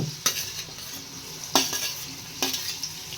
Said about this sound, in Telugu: ఆనియన్స్ మిర్చి ఉల్లిపాయ వేసేసుకుంటున్నాం కరివేపాకు కూడా వేసుకున్నాం